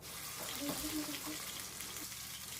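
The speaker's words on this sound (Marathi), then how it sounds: "तेल गरम झालं की यामध्ये एक पाकळी लसूण ठेचून घालूया यामध्ये आपण वाटलेलं मसाला घालूया" Crushed garlic and ground masala fry in hot oil for a spicy village-style mutton curry, producing a steady close sizzle with a faint voice briefly underneath.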